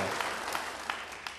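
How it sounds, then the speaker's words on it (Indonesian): Applause from a church congregation at an Indonesian Independence Day sermon, a broad wash of clapping that fills the short moment with a few sharper claps standing out. "Beri tepuk tangan yang baik buat dia"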